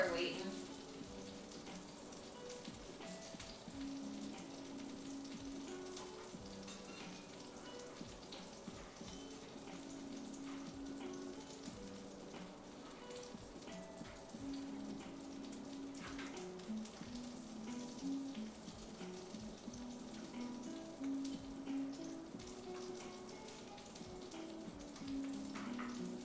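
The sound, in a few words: food sizzling while cooking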